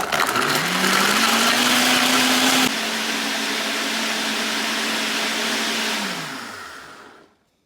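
A blender whirs steadily while blending a golden chai smoothie with turmeric, a loud close motor drone that shifts pitch briefly, runs evenly, then winds down to silence.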